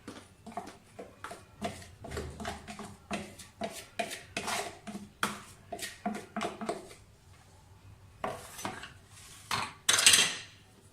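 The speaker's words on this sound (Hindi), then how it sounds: "अच्छी तरह से इसको मिक्स कर लें।" Tea cake batter being mixed by hand in a bowl: a brisk series of spoon clinks and scrapes against the sides, rhythmic and close, pausing briefly before a final louder clatter.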